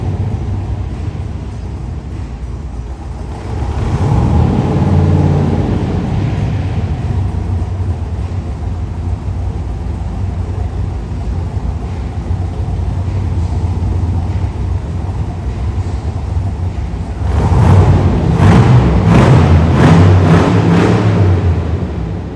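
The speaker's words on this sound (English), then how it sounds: "The 427 engine V8 is really amazing." A 1967 Corvette's big 427 V8 engine rumbles steadily, then revs up louder around the end, a deep throaty roar close by with no talking.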